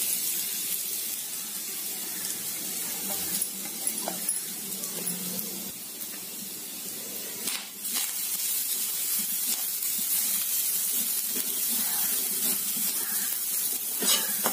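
Grated coconut frying in ghee in a pan for jackfruit halwa: a steady close hissing sizzle, like spray, with a few soft scrapes and stirs and no talking.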